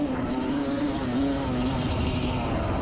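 Motorbike accelerating on a race track, a steady loud engine drone heard from on the bike with a slight pitch rise, wind rushing over it.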